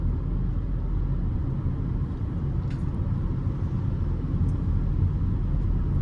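A Honda WR-V RS car drives along with a steady low road and engine rumble heard from inside the cabin, loud and continuous with no talk.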